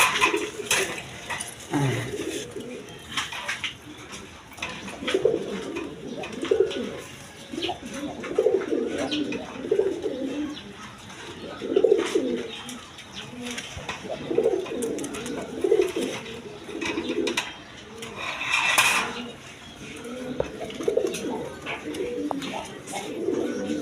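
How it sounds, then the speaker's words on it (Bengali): Pigeons for sale, offered with eggs and chicks, coo again and again in low rolling calls close by, while someone talks over them and a faint clink of dishes comes and goes. "আপনার কবুতরটা আমি দেখায় দেখবো কী ডাকাটা ডাকে"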